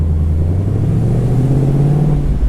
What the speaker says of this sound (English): You are about to experience the sound of mellow city driving